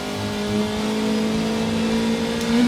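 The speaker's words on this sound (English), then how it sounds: "now braking at around the 150, giving us enough time to slow the car down" A car engine drones loudly and steadily on the Bathurst circuit, then its pitch rises toward the end as it accelerates, heard from inside the car with no talking.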